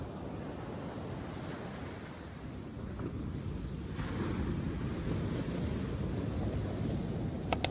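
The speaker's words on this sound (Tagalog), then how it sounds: "Makikita mo yung alon na yun ng ganyan ng dagat" Ocean surf breaks steadily on the beach at Cabangan, Zambales, a continuous low wash of waves with some wind rumble, rising slightly midway and ending with a couple of brief clicks.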